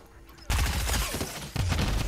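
Gunfire in the Fortnite video game, a loud burst of rapid shots that breaks in suddenly after a quiet start, then keeps going with dense cracks and booms and a second sharp onset near the end.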